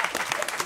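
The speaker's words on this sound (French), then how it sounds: "On applaudit," Brief applause from a French television studio audience, a short burst of steady clapping at moderate distance, fairly soft.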